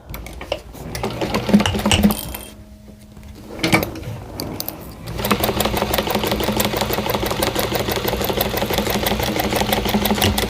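An embroidery sewing machine stitches a hexagon table runner. Scattered clicks and handling noises come first, then a short pause, and from about five seconds the machine settles into a steady, rapid mechanical chatter until the end.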